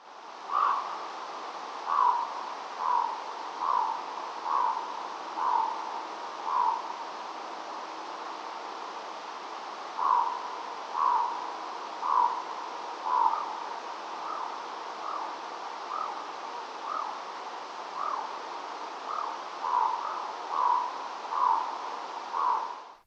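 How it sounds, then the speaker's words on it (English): A raven gives a series of rhythmic croaking calls, paired and grouped in short bursts with pauses, fairly distinct over a steady hiss, with a second bird faintly in the background. "we have a clip of some of the more traditional kind of croaking calls of a raven"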